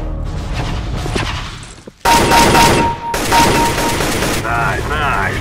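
Counter-Strike gunfire in a loud burst of rapid automatic shots and overlapping fusillade, with mechanical clicks and a short lull before another dense volley, close and harsh, with a voice speaking over it.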